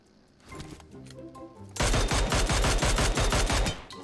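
M4 rifle fire in PUBG Mobile opens with a few scattered shots, then breaks into a loud, rapid automatic burst of close, steady rounds lasting about two seconds.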